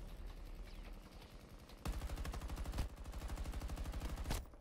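Rapid automatic gunfire in the video game Battlefield 2042, a long rattling burst of steady shots from close range that stops briefly and resumes, with a louder sharp crack near the middle.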